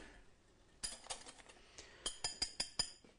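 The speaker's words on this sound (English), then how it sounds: "Now I'm now going to whisk the egg whites, not too stiff" Egg whites are whisked by hand, heard as a quiet pause and then a run of sharp metallic taps and clinks against a bowl, growing into a regular rhythm of about six strokes near the end.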